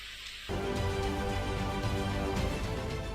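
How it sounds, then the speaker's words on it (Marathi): Unseasonal rain in Raigad district near Navi Mumbai and Thane, a steady dense wash of falling rain that starts abruptly after a brief quiet moment and holds fairly loud throughout with no voices. "रायगड जिल्ह्यातही अवकाळी पावसाची हजेरी लागलेली दिसते"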